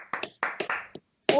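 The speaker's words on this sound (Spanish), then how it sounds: "¡Aplausos!" A handful of sharp, close claps sound in a small indoor setting at an event welcoming a guest, sparse and uneven, with a short pause before one last burst.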